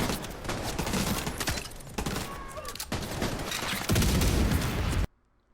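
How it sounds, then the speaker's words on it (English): In The Division 2, a cluster of mini grenades detonates in a loud, dense fusillade of overlapping bangs and crackles that lasts about five seconds and then cuts abruptly to silence. "They basically just pop into a bunch of mini grenades. They detonate in a large area of effect,"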